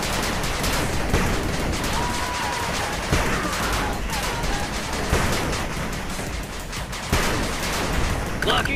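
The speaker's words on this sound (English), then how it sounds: "Rockets launched" Rocket launches and constant gunfire in the 8-bit Armies real-time strategy game, Sky Thunder mission, forming a dense, loud battle din with repeated bursts and sharp impacts throughout, with brief unit voice callouts mixed in.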